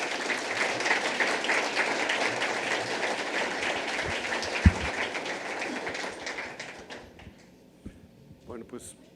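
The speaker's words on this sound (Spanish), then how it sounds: "Le pido a toda la audiencia un aplauso" Applause from the audience at an electoral-system conference in Mexico, a sustained wash of clapping that fades away toward the end, followed by a few faint sounds.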